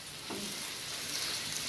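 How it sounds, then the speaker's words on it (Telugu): Masala paste of ginger and garlic fries in a pan with a steady, close hiss of sizzling oil, a brief stirring scrape partway through. "పచ్చి వాసన పోయేంత వరకు వేపుకుందాం వీటిని"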